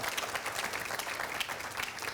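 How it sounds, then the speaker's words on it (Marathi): A studio audience at a Marathi TV comedy show claps loudly and steadily, welcoming a film team with a dense, continuous wash of applause. "जोरदार टाळ्या"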